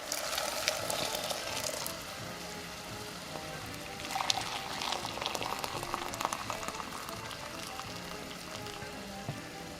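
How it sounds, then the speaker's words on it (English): Dried guajillo chilies simmer in a pot of boiling water, giving a steady, close bubbling hiss with scattered pops and gurgles, continuous and without speech. "Add your chilies to a pot of boiling water and let them cook until they're completely soft."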